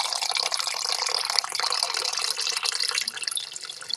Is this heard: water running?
yes